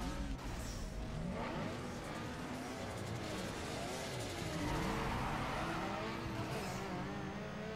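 Cars racing in Need for Speed Underground 2, engines droning and revving steadily with tire squeal and skidding, a continuous loud roar that swells and shifts pitch as the cars accelerate.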